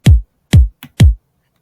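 Drum and bass kick drum with added effects, three loud, booming hits with sharp attacks and deep tails, plus a brief softer tick between the last two.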